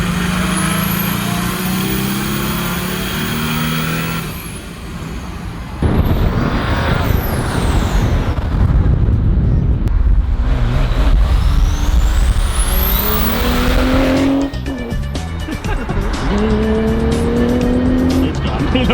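A Datsun 240Z with an OM606 turbodiesel swap accelerates hard, its engine note climbing sharply and then dropping on each gear change. The sound is loud and close, with a couple of quick shifts and turbo whooshes.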